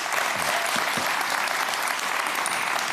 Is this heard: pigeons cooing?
no